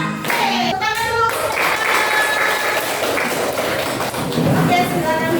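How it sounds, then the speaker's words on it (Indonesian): Students in a religious education class clap together in brisk, loud applause, with a voice and chatter mixed in over the steady clatter of hands. "Tepuk tangan dulu"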